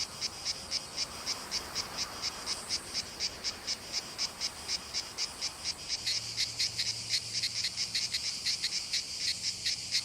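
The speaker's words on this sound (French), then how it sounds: "Les cigales ont mué. Elles sont sorties de terre pour commencer à chanter." Summer cicadas sing in pine trees at Port Miou, a rapid, evenly pulsing buzz that grows louder and denser partway through, with a low steady hum joining underneath and no talk.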